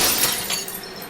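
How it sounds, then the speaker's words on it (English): Glass shattering and crashing loudly as a glass breaker screen smashes it at a materials recovery facility, a dense continuous breaking racket with bright clinking bursts throughout. "the intimidatingly named glass breaker screen busts up the glass that falls below the container line"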